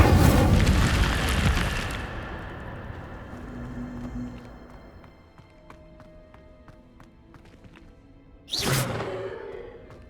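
Incendio fire spell in Hogwarts Legacy: a loud roaring whoosh of flame bursts at the start and fades over about two seconds, then a second shorter burst erupts near the end after quiet ambient game sounds with faint clicks.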